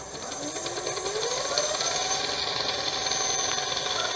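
Alternator converted into an electric motor runs with a steady broadband whine and hiss, a tone rising gradually as it spins up, continuous and fairly close, with no talking.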